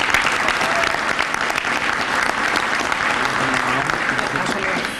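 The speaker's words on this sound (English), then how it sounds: "So please join me in giving him a round of applause" An audience applauds an honoree at a district police awards ceremony, a dense, sustained patter of clapping that stays loud and even, with a voice briefly audible beneath it toward the end.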